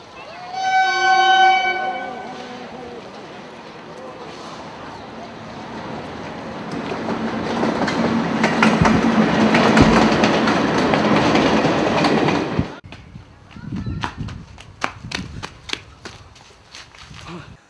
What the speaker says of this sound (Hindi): यही रेल है, अगर दिल्ली जाना तो इसी में बैठ लो